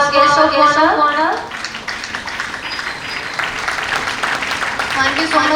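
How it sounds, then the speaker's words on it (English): An audience at a cultural festival event gives a guest of honor a round of clapping, steady dense applause rising under a speaking voice at first, then continuing alone. "a big round of applause for our guest of honor"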